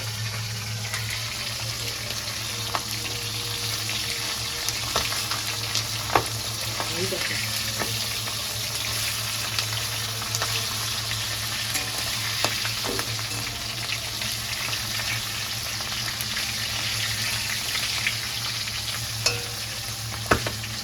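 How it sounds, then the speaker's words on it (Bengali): Pieces of fish sizzle and bubble vigorously in hot oil in a home kitchen, a dense, steady frying hiss that runs unbroken throughout, with a low hum underneath and occasional small pops. "ওই যে মাছগুলো ভেজে রেখেছি সেই অসম্ভব রকমই ফুটছে কারণ মাছের তেল আছে"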